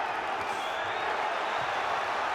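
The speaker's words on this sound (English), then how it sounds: "Saunders trying to bully Monroe, and the crowd responding" A boxing arena crowd roars and cheers continuously during a Billy Joe Saunders vs Willie Monroe Jr fight, a dense, steady wall of voices heard from within the venue.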